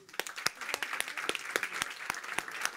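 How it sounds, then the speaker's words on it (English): An audience at a startup demo day event applauds, with a dense run of quick, sharp claps at a moderate distance that keeps an even intensity throughout. "A round of applause again."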